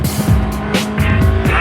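Race car tires squealing and skidding on a circuit as an old, heavy car is driven hard, with engine roar and repeated screeches rising and falling over under two seconds.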